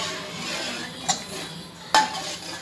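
A spoon stirs rasam with cooked toor dal in a pot with soft scraping, punctuated by two sharp metallic clinks against the rim.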